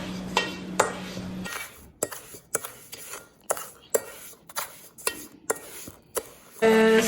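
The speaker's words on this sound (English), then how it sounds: "Just gonna take a big spoon and mix this together." A big spoon mixes blueberry muffin batter in a bowl, a series of separate knocks and clinks about once a second, sharp and close, with a brief hum at the start and end.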